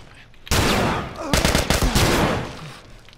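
Gunfire in The Last of Us, a sudden loud burst of shots with reverberant crackle, followed by a rapid string of close, hard reports that trail off.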